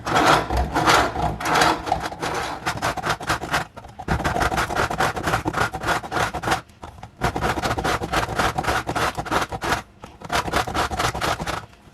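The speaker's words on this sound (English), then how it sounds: "we want to grate 1 bar of soap." A bar of soap being grated on a large grater for homemade laundry detergent, rapid rhythmic scraping strokes in several bursts separated by short pauses, close and loud.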